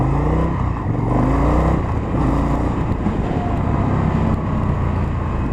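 An Indian FTR 1200 motorcycle with an Akrapovic exhaust accelerates through its gears, its engine roaring loud and close with rising and falling revs throughout, no talking.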